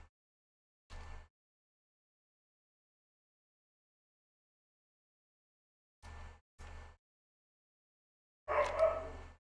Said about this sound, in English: And there goes the dog barking.